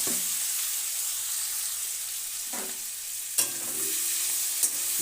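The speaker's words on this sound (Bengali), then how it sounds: "ট্যাংরা মাছটা দিয়ে দিলাম।" Tengra fish tipped into hot oil in a kadai and stirred, giving a steady high sizzle throughout with a couple of sharp clinks and scrapes near the end; no one speaks.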